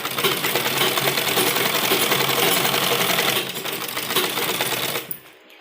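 A sewing machine stitches the lining of an embroidered suit, a fast, continuous mechanical chatter up close that pauses briefly near the middle, resumes, then stops abruptly.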